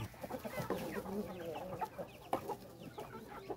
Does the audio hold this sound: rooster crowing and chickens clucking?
yes